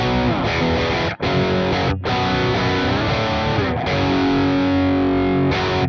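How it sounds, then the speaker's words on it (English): Electric guitar played through the Archetype: Plini X amp plugin with the overdrive pedal off, giving a crunchy, gritty tone. Sustained chords ring out over about six seconds, broken by a couple of short gaps between strums, with no voices. "The tone without the drive pedal engaged sounds like this."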